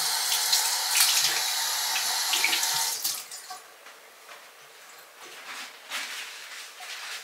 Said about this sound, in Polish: jak już obiorę jajko, to je opłukuję wodą